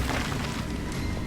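Incendio fire spell cast in Hogwarts Legacy, a loud, dense burst of low rumbling blast that holds steady for just over a second, with no voices over it.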